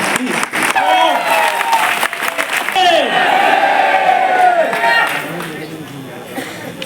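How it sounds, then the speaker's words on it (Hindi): Audience at a university seminar in Ayodhya claps and cheers loudly, with whoops and raised voices over the applause, a second swell of shouting in the middle before it fades toward the end. "जोरदार तालियां होनी चाहिए, जोरदार तालियां, जोरदार।"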